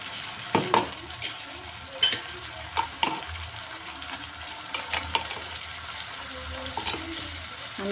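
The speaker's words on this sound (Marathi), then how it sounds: "आपण आता यामध्ये तयार केलेलं वाटण घालून घेऊ।" Spice paste frying with browned onion for an egg curry, a steady sizzle broken by repeated clacks and scrapes of a spoon against the pan.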